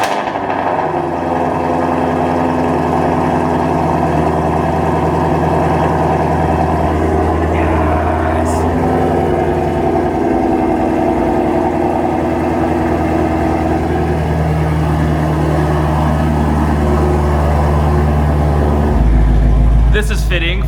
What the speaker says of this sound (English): Also, that idle, I can feel the ground shaking.